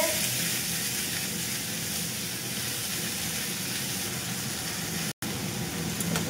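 Water lily stems frying in a hot wok: a steady, close sizzle and crackle continues throughout, with faint stirring, a very brief cut near the end and no talk.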